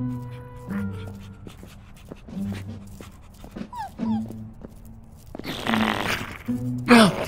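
Dogs in Minecraft Story Mode Season 2 whimper, yip and sniff in short bursts between game sounds, with scuffling and a louder burst of noise near the end.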